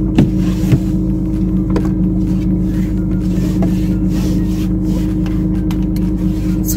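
A car driving along at a steady pace, heard from inside as a constant low engine and road drone with a few faint clicks and light knocks from the cabin.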